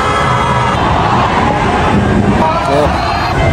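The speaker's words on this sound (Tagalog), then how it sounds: "sigawan na mga kababayan." A protest crowd shouting on EDSA in the Philippines, a dense, loud, continuous roar of massed voices with no breaks.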